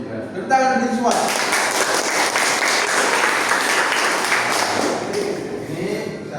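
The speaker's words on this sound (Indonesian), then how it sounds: "Tepuk tangan untuk semua." After a brief spoken phrase, a classroom of students breaks into loud, continuous applause, dense clapping that holds steady for several seconds, with some voices mixed in.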